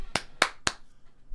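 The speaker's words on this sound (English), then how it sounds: "Applause right now in the live chat." Three sharp hand claps in close succession, loud and near, followed by quiet.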